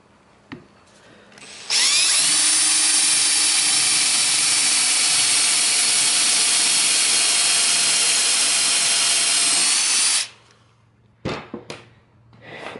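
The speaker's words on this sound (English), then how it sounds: "drill the pilot hole." A power drill bores a pilot hole into a wooden block, a loud steady whine for about eight seconds with a few clunks of handling before and after.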